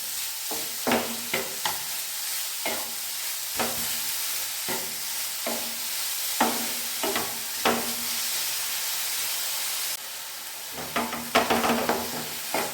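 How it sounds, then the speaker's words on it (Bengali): Grated carrots and sugar are stirred for carrot halwa in a pan, with a low steady sizzle and rhythmic spoon scrapes and knocks repeating every second or so, close and alone. "চিনিটা যতক্ষণ না গাজরে পাক হচ্ছে ততক্ষণ আমি নাড়াচাড়া করব"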